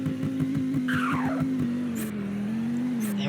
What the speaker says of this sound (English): So now let's go into neutral, and we're gonna launch the car.